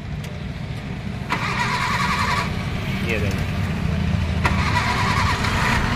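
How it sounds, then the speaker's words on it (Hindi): A Maruti Suzuki Eeco van engine fresh from an overhaul cranks and catches, then settles into a steady idle that runs through the clip, loud and near, with someone talking over it. "तो एक बार और मैं स्टार्ट करके दिखा देता हूँ आपको"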